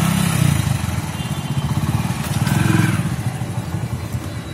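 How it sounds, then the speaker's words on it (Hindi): A motorbike engine running at close range, rising briefly as the throttle is opened, then settling into a steady rhythmic idle chatter with no voices over it. "ये हो गई बाइक स्टार्ट"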